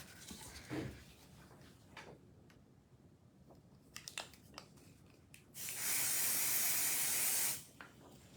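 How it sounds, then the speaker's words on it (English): Pixie spray aerosol is sprayed onto craft stencils in one sustained hiss lasting under two seconds, preceded by quiet handling clicks and rustles. "So I like to use pixie spray on my stencils."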